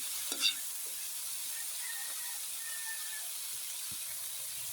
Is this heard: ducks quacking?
no